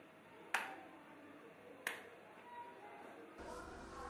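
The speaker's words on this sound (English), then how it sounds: "Try to wake the baby by clapping" Hands clapping near a drowsy, sluggish newborn to try to rouse it, two sharp isolated claps about a second and a half apart in a quiet room.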